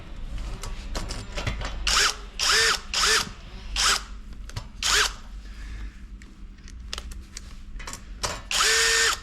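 A power drill drives screws while a machine stand for a riveting machine is assembled, giving a string of short, loud whirring bursts with brief pauses between them. No one speaks.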